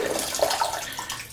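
Hot water drains out of a shaving scuttle, a steady close splashing and trickling rush that carries on without pause through the short stretch, no talk over it.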